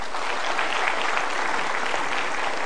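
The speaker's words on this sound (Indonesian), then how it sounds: "Kita berikan tepuk tangan" A seminar audience applauds steadily and loudly throughout, a dense wash of many hands clapping with no voices rising above it.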